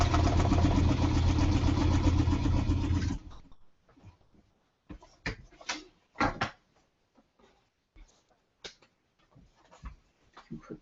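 Domestic sewing machine stitching quilt fabric along a marked line for a Cathedral Window block: a steady, loud mechanical whir for about three seconds, then it stops, leaving scattered clicks and handling noises of fabric being moved.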